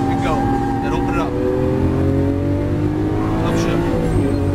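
A Lamborghini Aventador on a Las Vegas racing track, its engine revving hard with rising pitch as it accelerates, loud and close, under a driving instructor's voice.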